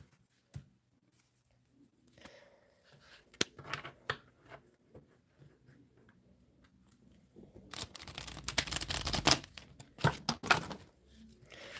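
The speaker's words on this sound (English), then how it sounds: "Let's have a few shuffles." A deck of tarot cards is shuffled by hand in soft, scattered riffles and taps that build into a louder burst of flapping and clattering near the end, close and with no talking.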